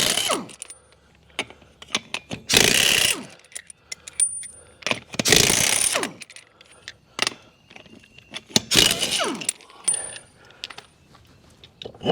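Hand wrench working loose the wheel lug nuts on a Kubota X1120D side-by-side, with metallic clicks, clinks and several loud broadband bursts of turning and ratcheting spread across the stretch, close up and with no talking.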